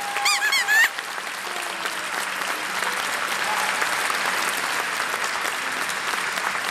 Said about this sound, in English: How about a nice round of applause for our commissioners?